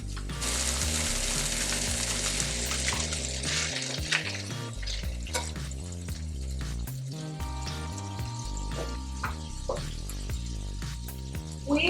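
A stick of butter melting in a hot pan left with browned bits from cooking chicken, giving a loud continuous close sizzle with crackles and occasional utensil scrapes, no talking.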